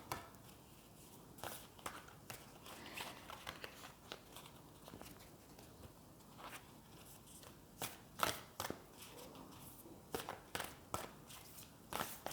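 A deck of oracle cards is handled, shuffled and pulled, producing soft, quiet flicks and scattered taps in irregular bursts against a hushed background, with no speech.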